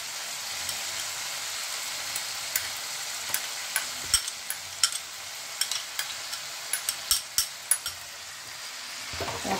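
Sour yogurt goes into a pan of fried spices and released oil and sizzles steadily, with a soft crackle and scattered sharp pops and spatters throughout, no voices.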